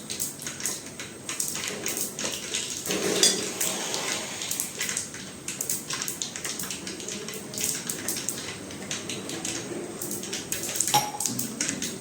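A spice paste of red chili, coriander-cumin powder, turmeric and garam masala with a little water is mixed in a pan, with continuous close scraping and light metallic clinks of a spoon.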